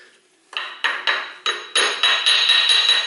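Hammer blows on a steel crankshaft puller while a Toyota Corolla water pump is being replaced, about seven sharp metallic strikes in an uneven rhythm, loud and close, with no talking.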